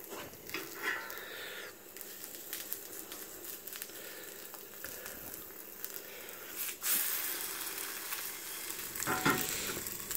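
An egg frying in a pan, a steady close sizzle and crackle running throughout with a few scraping stirs and a louder burst near the end as it is flipped.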